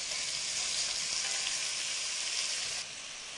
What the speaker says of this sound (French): sur feu vif, on va faire dorer la viande sur toutes ses faces